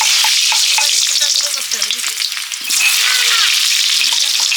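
Potatoes frying loudly in hot oil and being stirred, a dense close sizzle with clattering strokes of the spoon, easing briefly midway before swelling again, with faint voices in the background.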